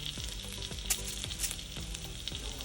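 Masala-coated pieces of fish fry steadily in a pan with a dense, continuous sizzle and crackle, with occasional louder pops and faint low scraping, close and loud with no voices.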